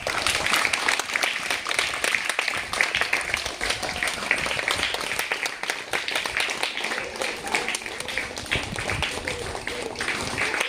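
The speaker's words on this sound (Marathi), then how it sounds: "बाकीच्यांनी टाळ्या द्यायच्या" Children clap together during a hopping relay game at a school activity, a dense, steady patter of many small hands that carries on throughout the stretch.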